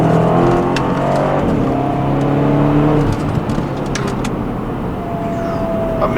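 Engine of a 2011 BMW X5 M pulls hard under acceleration, a loud steady drone with rising tones that eases off midway into a smoother whirring cruise.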